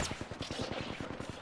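Rapid automatic gunfire in the battle royale game Apex Legends, a fast even stream of about a dozen close, punchy shots in under two seconds.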